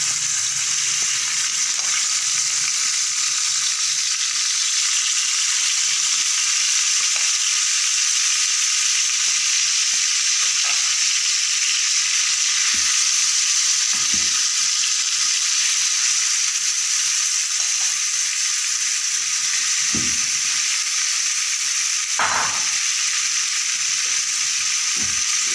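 Chicken pieces frying in a pan for paratha rolls, an even, loud, continuous sizzle with occasional soft stirring knocks, heard up close without talk.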